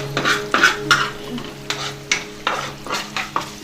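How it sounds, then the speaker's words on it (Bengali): Onion, green chilli, cashews and garam masala sauté in mustard oil, heard as a steady sizzle under repeated rhythmic scrapes and clinks of a spoon stirring against the pan. "ভালো করে কষতে হবে।"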